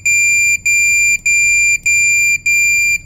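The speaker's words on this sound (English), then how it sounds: "there's showing the shallow depth alarm right now, and it will continue on alarming" An echo sounder's shallow depth alarm beeps in long repeated tones, five sustained high-pitched pulses separated by brief gaps, clear and close with no talking.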